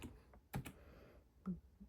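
Faint keystrokes on a computer keyboard: a few soft, sparse clicks over quiet room hiss, with no one talking.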